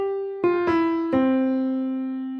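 A few melody notes on a piano-like instrument, three struck tones in quick succession with the last held and slowly fading, clear and close with no voices.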